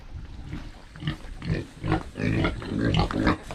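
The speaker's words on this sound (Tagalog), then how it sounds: "medyo maliliit na saging papakain natin sa baboy" Pigs grunting and snuffling while being fed small lakatan bananas on a farm, a run of close, loud feeding grunts in uneven bursts with no talk.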